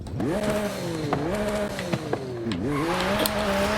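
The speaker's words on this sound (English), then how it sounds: "In order to get that classic McLaren V8-ish sound, McLaren took the V6 engine" The hybrid V6 of a McLaren Artura in the racing game Forza Horizon 5 revs loudly and continuously, its pitch climbing and dipping through gear changes with brief tire noise.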